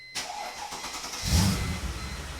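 A car with a custom exhaust cranks and fires up close by, with a short starter whir before the engine catches, a rumbling surge of revs, then a settling, throaty idle.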